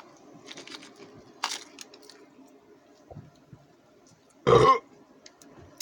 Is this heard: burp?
yes